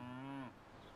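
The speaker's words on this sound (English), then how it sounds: "Yes, a herd of cows" A herd of cows: one close, low, drawn-out moo lasting about half a second, then quiet.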